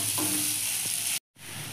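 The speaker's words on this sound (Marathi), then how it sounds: "भाजून घेऊया चांगले। भाजून घेतले की सँडविच छान लागते।" Potato cheese sandwich toasting in a hot pan, a steady close sizzle and frying hiss with a brief scrape partway through, briefly cut to silence before the sizzling resumes.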